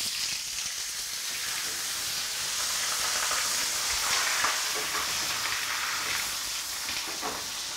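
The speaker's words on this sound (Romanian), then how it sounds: "Călesc foaia" A cabbage leaf sizzles and fries in a hot pan, a dense, steady hiss with light crackles and a few stirring sounds close by.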